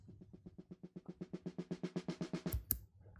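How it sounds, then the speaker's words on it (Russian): A rapid run of snare hits from the Addictive Drums 2 sampler, a low-velocity filter applied, about eighteen even strokes swelling from soft and muffled to louder and brighter, followed by a couple of sharper hits near the end. "сигнал получается более глухой при низких значениях velocity."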